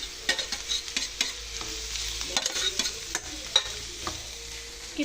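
A fried horse gram curry in a pan, with tamarind being stirred in: a steady sizzle punctuated by sharp, irregular spoon scrapes and taps against the pan, close and moderately loud, with no talk.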